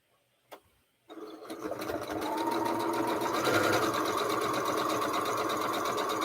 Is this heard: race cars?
no